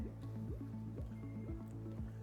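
Sanitizer solution bubbles inside an Electro Freeze CS-700 soft-serve machine during cleaning, making a quiet rhythmic glugging and squishing at a steady pulse.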